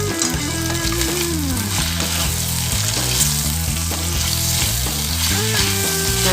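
Mutton pallipalayam frying in a pan, a loud, continuous close sizzle that runs steadily throughout, with music playing underneath.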